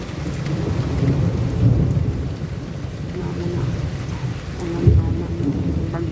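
Steady heavy rain pours during a summer night thunderstorm, with low rolling thunder rumbling underneath and one stronger crack near the end.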